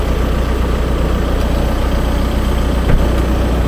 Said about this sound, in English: I hope he turns his truck off,